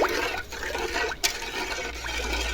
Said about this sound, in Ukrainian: позаливаю холодною водою зверху по листку